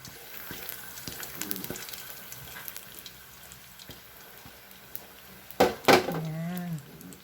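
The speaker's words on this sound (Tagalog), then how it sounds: "So, ang gagawin natin, ipiprito lang natin siya. Yan, hinulog ko na. Piprito natin siya isa-isa." Leftover lumpia wrappers fry one at a time in oil, giving a soft, steady sizzle with small clicks and stirring, then a louder burst of bubbling as a piece drops in, followed by a brief whining tone.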